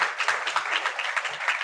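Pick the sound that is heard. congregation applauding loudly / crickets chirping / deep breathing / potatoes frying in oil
congregation applauding loudly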